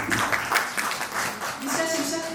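Applause from a seated audience at an annual Hindi poetry recital, a steady broad wash of clapping lasting the full stretch, moderately loud and close, with no voice rising above it.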